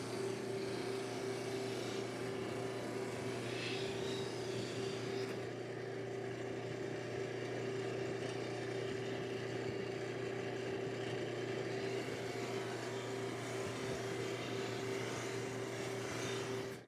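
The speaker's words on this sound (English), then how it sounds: "let's just buff it to a high gloss" A buffing wheel polishes a lacquer-finished sample wood board to a high gloss, giving off a steady motorized hum with a strong constant tone, continuous and even throughout, with no speech.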